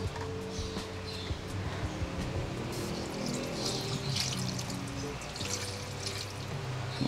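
Water pours steadily into a pot of white adobo made without soy sauce, already seasoned with salt and fish sauce, as a continuous close liquid rush with faint dripping, no voices.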